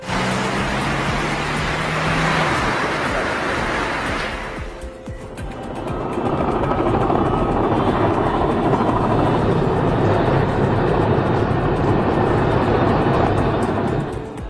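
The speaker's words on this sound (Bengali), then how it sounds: "মিল Mi-26 এটি পৃথিবীর সবচেয়ে বড় হেলিকপ্টার" A Mil Mi-26, the largest helicopter, roars loud and close with a dense, continuous rotor and turbine rumble that briefly dips before swelling back to full strength, with no voices.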